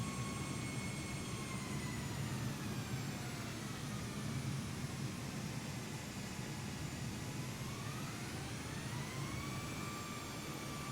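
Airbus A320neo engines spooling up for takeoff in Microsoft Flight Simulator, a steady roaring jet rumble with thin whining tones sliding in pitch, continuous and even throughout with no voices.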